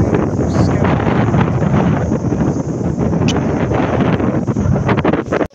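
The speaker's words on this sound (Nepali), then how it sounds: "हावा पनि चलेको छ एकदम शीतल छ" Strong, steady wind gusts across an open hilltop near a flag, roaring continuously into the microphone at close range for the whole stretch with no voices.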